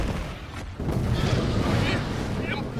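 Artillery fire in a Sand Land video game cutscene: a sustained heavy rumble of booming cannon blasts with a brief dip early on, loud and dense, filling the scene without speech.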